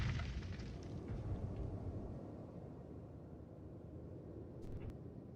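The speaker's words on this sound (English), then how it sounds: "Another explosion and shake." A deep, rumbling explosion sound effect played during a tabletop role-playing game, starting loud and slowly fading into a low, sustained roar.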